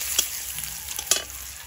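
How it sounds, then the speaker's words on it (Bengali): Dry red chillies, whole cumin and boiled garlic sizzle in hot oil in a kadai, a steady close frying hiss with a couple of brief crackling bursts, no voices. "কড়াইতে তেল দিয়ে দেব, তেলের মধ্যে দিচ্ছি শুকনো লঙ্কা,"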